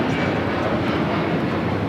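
Airliner landing on runway 25 right at LAX, wheels down, with a steady broadband jet roar held at close range and no voices.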